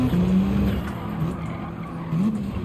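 Handbrake slide in a 520 hp Mitsubishi Lancer in Gran Turismo 7 rallycross, with a steady engine drone under tires skidding and squealing in long wavering tones, loud and continuous through the whole stretch.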